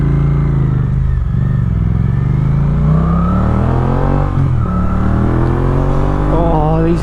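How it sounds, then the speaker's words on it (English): A Suzuki GSX-8S motorcycle engine rumbles loudly and close, its deep exhaust note rising and falling as the throttle is revved several times. "Oh, these exhausts sound great."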